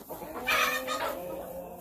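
A hen clucks on a nest in a farm henhouse, giving a couple of close, throaty clucks over a steady background hum, with no talk.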